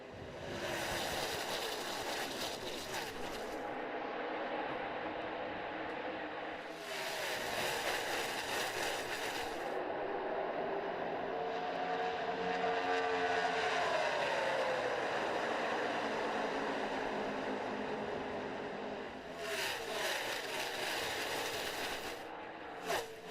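A pack of NASCAR stock cars roars away at the green flag on the opening lap of the Saturday night KC Masterpiece 400, running three wide: a loud, continuous engine din with rising and falling whines as cars sweep past.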